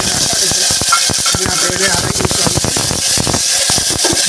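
Cluster beans (guvar) hit hot oil for a Gujarati tempering, giving a loud, steady sizzle with stirring clatter throughout, and a voice speaks briefly over it.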